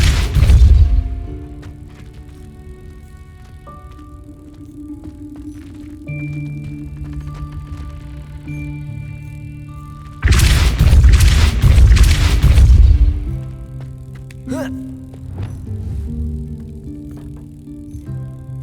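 A Depulso force spell goes off in Hogwarts Legacy, a loud booming blast of a few seconds that bursts out amid orchestral game music and other game sounds.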